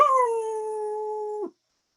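Voices imitating a wolf howl hold one long, steady, fairly loud note for about a second and a half before cutting off abruptly into silence.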